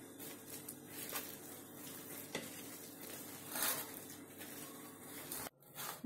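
Maize flour being worked into dough with boiled water for makki dhokla, a steady wet stirring and squishing with light scraping against the bowl, close and continuous without talk.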